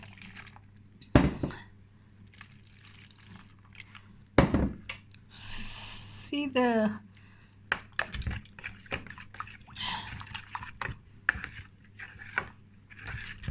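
Water splashes and trickles in a bowl of flour with clinking and light tapping, a brief gush partway through, then scattered clicks and stirring noises as the flour is washed.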